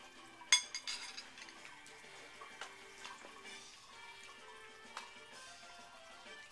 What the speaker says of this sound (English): I'm chopping down on this lasagna my mom's making